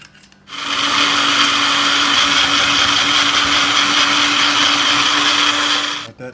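A countertop blender whirs at high speed through a sauce loosened with olive oil and a splash of Sauvignon blanc, a loud steady roar that starts abruptly and cuts off about six seconds later.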